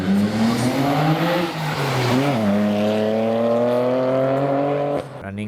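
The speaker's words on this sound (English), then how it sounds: "1995 Nissan Skyline R33 GTR" A 1995 Nissan Skyline R33 GTR race car climbs at the Simola hillclimb, its engine revving hard and steady with shifting pitch through the gears, loud and close, under a commentator's voice.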